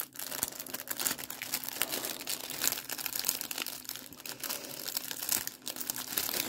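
A Care Bear sticker package being opened, with continuous close crinkling and crumpling of plastic wrapping and occasional tearing, steady and fairly loud throughout without any voices.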